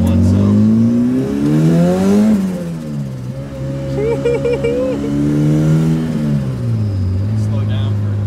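A turbocharged Honda Civic making over 500 hp accelerates hard: its engine note climbs steadily, drops at each gear change and rises again, loud and close throughout the run.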